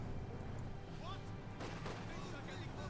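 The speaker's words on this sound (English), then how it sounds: "Nice grenade" A grenade blast lands amid a Company of Heroes 2 battle, one sharp boom with scattered gunfire and crashing debris over constant battlefield rumble, while a commentator talks over the action.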